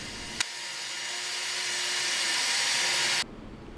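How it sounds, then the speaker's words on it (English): A steady, continuous rasping drone of a saw cutting a wooden dowel, after a sharp click at the start; it runs for about three seconds, then stops abruptly. "I cut the dowel to the length I wanted"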